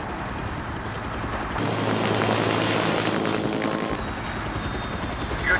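A helicopter from a yacht flies overhead, a loud, steady rotor roar that swells in the middle for a couple of seconds before dropping back to a lower drone.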